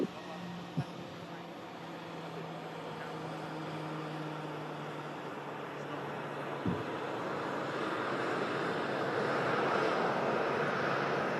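Turkish Airlines Airbus A330 landing at Manchester after a missed approach, a steady broad jet roar building gradually and staying loud to the end, with a couple of faint brief knocks near the start.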